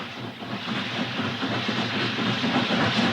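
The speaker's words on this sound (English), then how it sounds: "The largest engine in working order in the entire world, the Union Pacific Challenger." The Union Pacific Challenger, a huge steam locomotive, gives off a steady hissing roar of steam and rolling rail noise, constant and fairly loud throughout.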